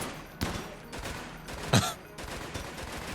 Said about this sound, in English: There goes those incendiary rounds.